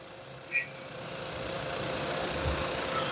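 Car engine idling steadily during a check for valve damage, a continuous mid-level hum with a faint ticking texture, heard close and fairly quiet.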